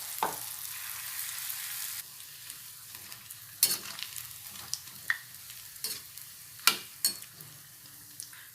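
A vegetable bonda snack fries in a pan, a steady soft sizzle running throughout with occasional sharper crackles and stirring clinks close by, no voices.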